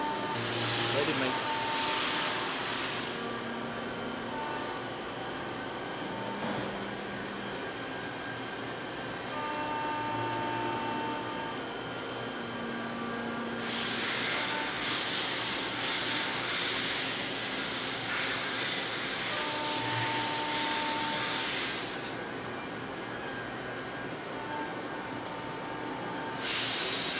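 A pin bore machine working on forged pistons at a piston maker, giving a steady mechanical hum under loud hissing air blasts that come and go in long stretches.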